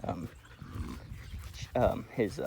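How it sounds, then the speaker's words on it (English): A young board-and-train dog named Meg lets out a few short growls, near and fairly loud, mixed with brief human speech around them. "Meg was doing a little bit of growling"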